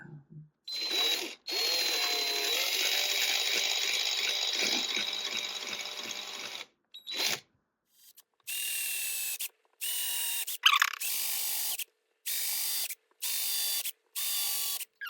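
A power drill drills holes in a kit guitar neck, running in one long, steady whir, then stops and fires in several short, evenly spaced bursts at close range.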